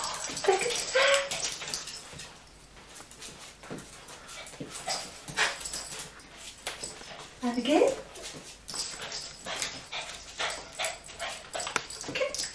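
Indoors, a dog whimpers and gives a few yips and short barks, close by and intermittent, while a person talks over it and praises it.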